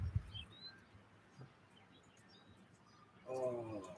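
Birds chirp outdoors on a quiet morning: scattered short high tweets early on, then a denser burst of overlapping chirps near the end over a steady hum of background noise.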